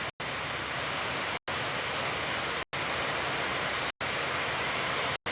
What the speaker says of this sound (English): now it's just kind of a light rain.